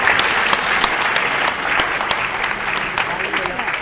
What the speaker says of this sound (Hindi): माँ के लिए हम लोग बढ़िया वाली ताली बजा के हम लोग सेलिब्रेट करें